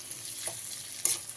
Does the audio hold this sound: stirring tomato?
yes